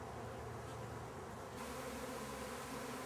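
Honeybees swarm and drone around their hives after being blown out of the boxes, a dense, steady buzzing hum of many insects close by with no pauses.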